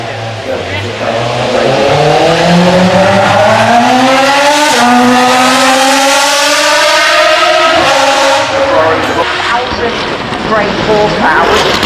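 A 4-litre twin-turbo car drifts at the Goodwood Festival of Speed, its loud engine revving and climbing through rising pitch sweeps as tyres scrub, with a commentator talking over the roar.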